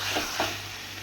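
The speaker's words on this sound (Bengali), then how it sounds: "খুলে এবার একটু কাঁচা লঙ্কা কুচি দিয়ে দেবো, দিয়ে একটু নাড়াচাড়া দিয়ে নেব" Chicken kosa sizzles in a pan as chopped green chillies are stirred in, with two quick scraping strokes over a steady hiss.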